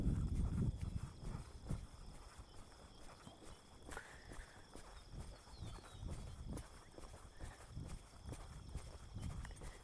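A horse walking during training for a horse show, its hooves clip-clopping in a steady, even rhythm at moderate distance, fairly soft with no talk.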